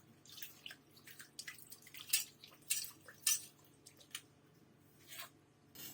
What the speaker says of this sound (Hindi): अब मैं इसको आपको साफ पानी से वॉश करके दिखाती हूँ।